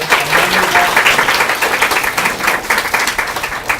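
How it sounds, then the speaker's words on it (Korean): A lecture audience at Yonsei University claps in a full round of applause, close and loud, with an uneven rippling rhythm that holds through to the end. "박수 한번 드리시고"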